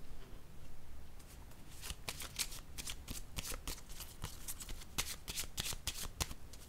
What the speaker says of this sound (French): Je vais déposer une carte ici.